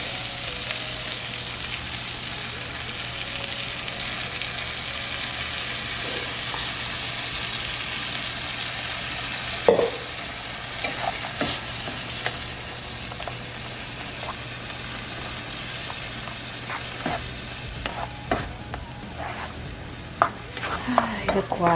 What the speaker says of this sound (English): And we're just gonna let it simmer here for a little bit.